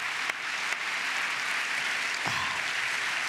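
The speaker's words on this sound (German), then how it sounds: "Ich finde, das ist schon fast mal ein Applaus für den Schelker wert." A live comedy show audience in a Kursaal hall applauds softly. The even, continuous wash of clapping sits at a distance, with a couple of sharper claps standing out.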